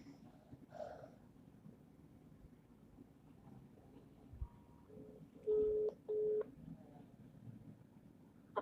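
A phone number is dialed on a telephone. Faint taps come first, then a few short, clear tone bursts around the middle of the stretch over a quiet hiss of room noise.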